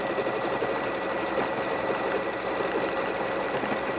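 A Bernette b38 sewing machine stitching out a sequence of letters, its fast, even mechanical chatter running loud and continuous at close range with no pauses.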